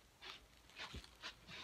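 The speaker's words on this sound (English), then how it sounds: "We're having a dog in here." A dog panting indoors, soft rhythmic breathy huffs repeating about every half second, close but quiet, with no talking.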